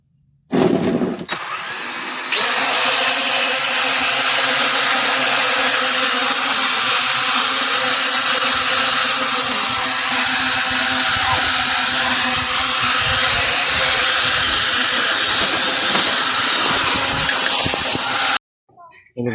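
A small drone motor whirs steadily at a high pitch for a long stretch, loud and close, starting and stopping abruptly.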